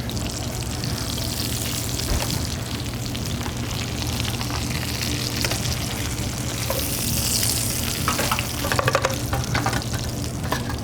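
Breaded chicken Milanese fries in hot oil, a close, continuous bubbling sizzle with a low hum underneath and a few louder crackles near the end.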